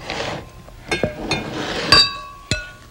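A flour and salt mixture for homemade clay being stirred in a bowl, with scraping strokes punctuated by several sharp clinks of a utensil against the container, close and clear with no talk.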